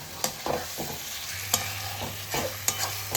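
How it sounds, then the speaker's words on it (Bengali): Potatoes stir-fried in spice masala in a pan for banana flower kofta curry, with a sizzling hiss and a few distinct scraping stirs of the spatula, close and moderately loud, without talk. "এবারে আলু দিয়েও আমি একটু কষিয়ে নেব"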